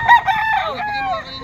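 Stag rooster crowing loudly and close at a poultry auction market, a single full cock-a-doodle-doo call with a wavering, descending tail.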